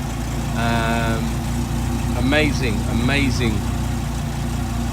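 A Dodge Viper's naturally aspirated 8.4 litre V10 idles with a steady, low, even rumble that runs throughout, while someone speaks briefly over it.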